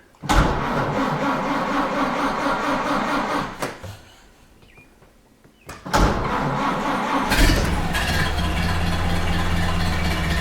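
A 1929 Ford Model A engine cranks and fires up, running loudly and steadily, then cuts out into a quiet pause before catching again and settling into a close, continuous idle.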